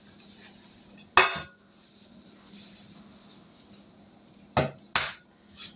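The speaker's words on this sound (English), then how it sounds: "And we're going to butter this little pan up." A utensil scrapes and clinks against a small pan while it is buttered, a few sharp metallic clatters spaced out over quiet kitchen background.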